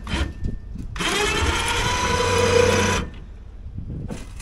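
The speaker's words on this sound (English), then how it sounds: "The winch worked perfectly." An electric truck bed winch powered through a 7-pin trailer plug whines steadily for about two seconds while pulling a stump grinder into the bed, then stops, leaving quiet background noise.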